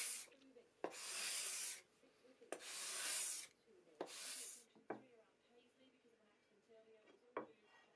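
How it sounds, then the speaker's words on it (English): A cabinet scraper rasps across a wooden guitar neck blank in three long, loud strokes, each followed by quiet taps and small knocks between passes. "I returned the neck blank to flatness with a cabinet scraper"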